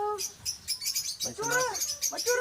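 Parrots give shrill chirps and squawking calls in quick bursts, close by, with some talking-like cries mixed in.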